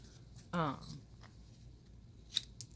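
Scissors snip through paper for a weekly planner spread: one loud, close cut followed by a couple of faint clicks, with brief talk nearby.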